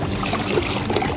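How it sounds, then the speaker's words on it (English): Wash sponge dipped into a rinse bucket of water during a two-bucket car wash, a close sloshing, trickling swirl of water that continues steadily through the moment, no voices. "So we're going to go ahead and dip it back into the rinse bucket"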